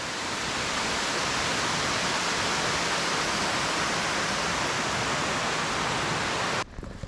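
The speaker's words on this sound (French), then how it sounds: "c'est la cascade la plus haute d'Alsace, celle de Nidec" The Nideck waterfall, 25 metres high and the tallest in Alsace, roars as a steady, dense rush of falling water, loud and close throughout before cutting off at the very end.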